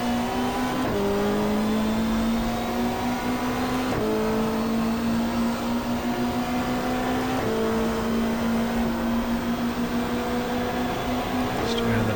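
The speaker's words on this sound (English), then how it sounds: "Tony Scott in the Volvo is the next one ahead of O'Brien." Touring cars, including a Volvo and a BMW, race at the Gold Coast Indy street circuit in the GTR2 video game's 1995 Australian Super Touring Championship. Engines scream continuously and loudly, with repeated upshifts dropping the pitch.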